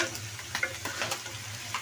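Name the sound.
onions frying in oil with salt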